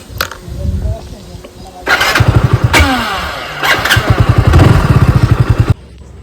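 A motorbike engine cranks and starts, then idles in a rapid, loud, close putter with a few throttle blips before cutting off near the end, while people talk around it.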